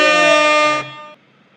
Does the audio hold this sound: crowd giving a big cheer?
no